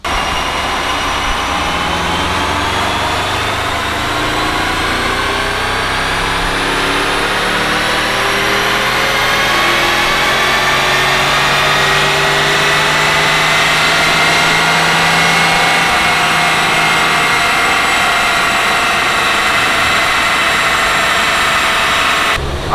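A Porsche 958 Cayenne Turbo engine strapped to a dyno runs baseline stock pulls, its loud, steady roar rising in pitch across the whole stretch with whining harmonics, close and without talk.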